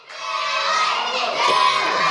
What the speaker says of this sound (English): And the crowd trying to get behind Billy Lit